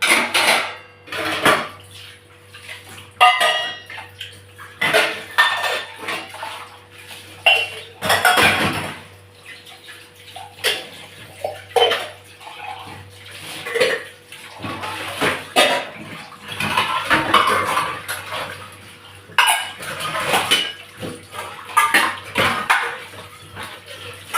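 Running water splashes in bursts while dishes are washed, with plates and cutlery clattering and clinking close by, the flow starting and stopping in an uneven rhythm.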